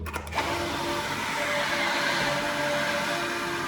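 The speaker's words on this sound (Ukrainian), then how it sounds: "Я зараз включу насос, буде звук" A few sharp clicks, then an electric pump kicks on and runs steadily with a loud, even mechanical whir and a faint tonal hum.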